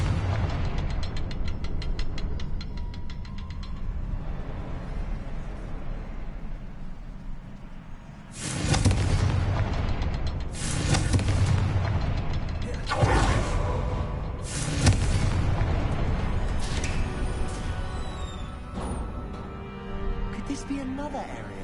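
Confringo blasting spell from Hogwarts Legacy, a series of four or five sharp explosive bursts spaced a couple of seconds apart, loud and near, following a quieter stretch of game ambience.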